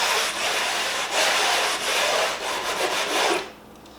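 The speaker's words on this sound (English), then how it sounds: "taking your plastic bristle brush and just polishing the bottom of the board" A plastic bristle brush rubs steadily back and forth across a freshly waxed snowboard base, a close, continuous scratchy swishing for a few seconds before it stops.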